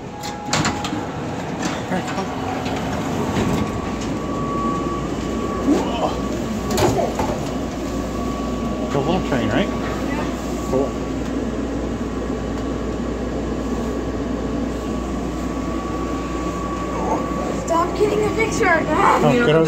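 An airport monorail train at Tampa International hums steadily along with a faint tonal whine, a low rumble underneath and occasional clunks, while people talk nearby.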